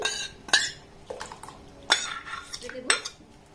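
Soaked Gobindobhog rice tipped into a cooking pot with a few sharp metallic clinks and scrapes of a spoon against the pot, spaced apart, close and moderately loud over a quiet kitchen.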